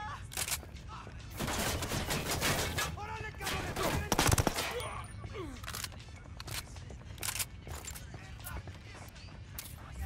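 Bursts of rapid automatic rifle fire and single shots crack through a Ghost Recon Wildlands firefight, dense and loud at first, then sparser, with voices talking over the shooting.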